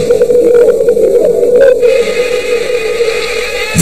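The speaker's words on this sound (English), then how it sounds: "The buzz from the female's wings coincides exactly with the male's restricted hearing." Female mosquito wing buzz as it might reach a male through his antennae: a steady, loud, continuous drone with a strong fixed hum, alone with no talk, some flickering texture in the first half.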